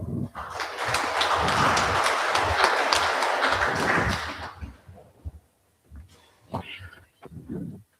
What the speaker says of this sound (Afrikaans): Kom ons klap vir haar lekker hande.